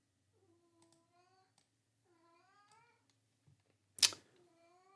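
A cat meows several times in drawn-out, rising and falling calls, close and clear, with a sharp short noise near the end and no talking.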